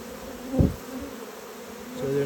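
Honey bees from a swarm buzz steadily around a nuc box, a close, continuous hum with one brief louder thump partway through.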